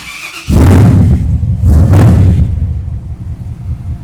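A car engine cranks and fires up after a power steering pump replacement, a loud close low rumble that surges, dips and swells again before settling into a steady idle.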